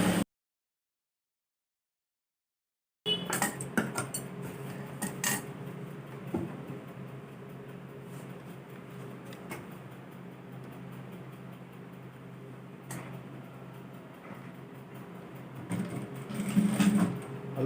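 A sewing machine stitches the strip of a flanged pillow cover, running as a steady low mechanical hum with light rattling for about fifteen seconds after a brief silence, fairly quiet and close, with no talking.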